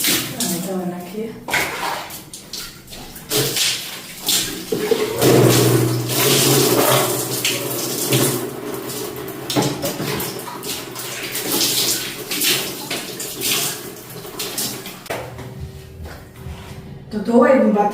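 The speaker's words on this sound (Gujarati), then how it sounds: "તો ધોવાઈ ગયું બાથરૂમ" Water splashes and runs while a bathroom is washed, pouring and sloshing in bursts under a person's voice talking throughout.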